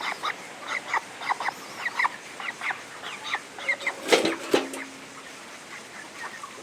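Poultry clucking with repeated short calls, close and moderately loud, with a louder honk-like burst near the end and no voices.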